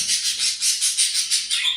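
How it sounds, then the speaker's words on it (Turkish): Birds chirp in quick, bright repeated bursts, close and fairly loud with no voices over them, in a steady rhythm throughout. "Kuş sesleri içerisinde."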